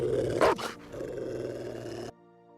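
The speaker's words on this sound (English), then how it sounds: "He was trying to help but got chased by the robber's aggressive dog." An aggressive dog in a film chase scene growls and snarls over a steady backing bed, with one louder rising burst before the sound drops to a quiet tail.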